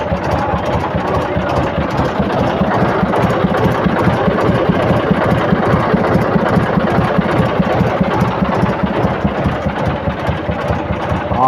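Tractor engine idling at steady RPM while its empty hydraulic trolley lowers, a loud continuous close-up diesel rumble with a fast regular low knock throughout.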